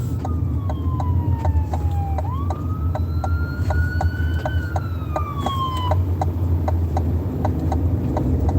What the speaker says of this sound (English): there's somebody behind me. Emergency vehicle.